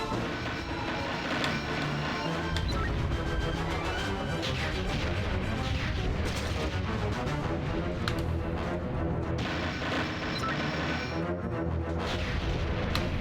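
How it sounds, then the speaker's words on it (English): Loud, continuous crashing and booming explosions from the Jet Force Gemini video game, dense and unbroken throughout with no pauses between blasts. "these exploding things are a nightmare"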